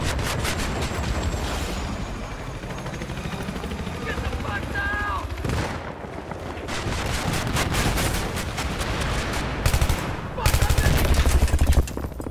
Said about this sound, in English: Yes, you are taking fire, indeed,